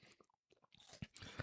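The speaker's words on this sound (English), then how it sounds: "you get the wafer and you get the crunch from that" Crisp crunching bites into a Kit Kat wafer bar, quick close-up chewing crackles, faint and alone.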